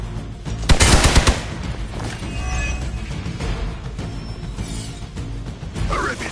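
Gunshots in the Marvel's Midnight Suns video game: a sharp, loud burst of fire near the start, then a busy wash of combat noise and mechanical clatter.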